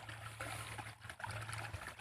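Water flows through a channel in a rice field, a steady close trickle and splash running continuously with no pauses.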